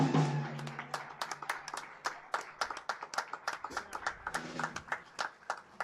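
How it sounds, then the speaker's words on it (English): Scattered hand claps ring out in an uneven patter, a small live jazz audience applauding with a brief murmur of voices at the start. "let's have one more round of applause"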